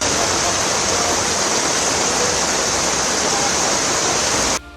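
Floodwater surging in waves after heavy rain in Delhi, heard as a loud, steady rushing roar of water that continues without a break and cuts off abruptly near the end.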